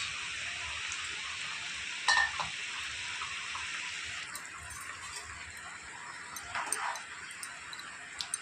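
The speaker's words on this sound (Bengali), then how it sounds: "এবার দিয়ে দেবো ভেজে রাখা চিংড়ি মাছ" Water and previously fried prawns go into a sizzling pan of raw jackfruit and prawn curry. A continuous sizzle shifts partway through, with a few sharp clatters of utensils against the pan.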